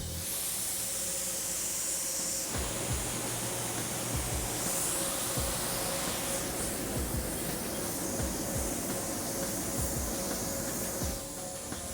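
A spray gun lays the first color coat onto a Chevy C-1500 pickup, a steady close hiss of spraying air that keeps on for the whole stretch under faint low knocks, with no talking.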